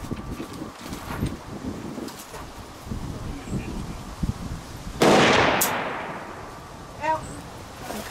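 Single loud gunshot from an M1 Carbine rifle fired outdoors, a sharp broadband crack near the middle followed by a decaying echo, with wind noise and brief shouted voices around it.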